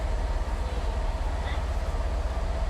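Low steady rumble of a big train standing at a railway station platform, a continuous idling drone with broadband station noise and no clear events, close and moderately loud.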